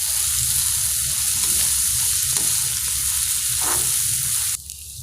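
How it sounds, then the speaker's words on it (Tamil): Onions and curry leaves sauté in a hot pan with a steady, close sizzle and occasional stirring scrapes, running continuously before cutting off abruptly near the end. "வெங்காயத்தை நல்லா வதக்கிக்கோங்க"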